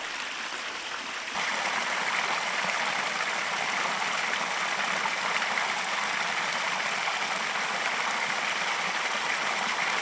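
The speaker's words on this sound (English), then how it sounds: "a little bit farther upstream is this gorgeous waterfall and pool" Beside a trail campsite, a stream runs steadily near a waterfall and pool, a constant rushing wash of water that swells slightly after the first second and then holds, with no voices.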